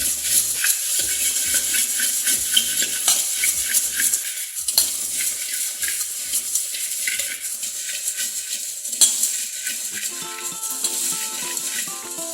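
Spice paste and salt being mixed by hand into puffed rice for wet bhel, a steady dry rustling and crunching with rhythmic tossing scrapes, close and continuous throughout.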